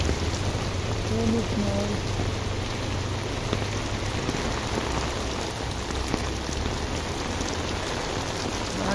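Heavy rain pours down steadily in Recife during flooding, a dense, continuous hiss close by, with a voice talking briefly over it.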